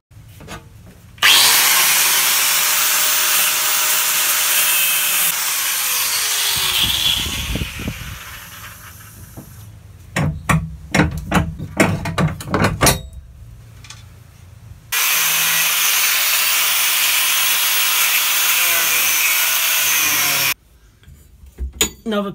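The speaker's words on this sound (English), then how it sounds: "After borrowing my 5-inch grinder from work," Borrowed 5-inch angle grinder cutting out a rotten camper trailer floor, running in long loud continuous whining stretches broken by pauses and clattering, scraping bursts as pieces come away.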